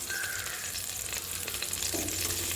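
Onion and bay leaves sauté in a pan, a soft continuous sizzle with a few brief stirring scrapes, fairly quiet and without talk.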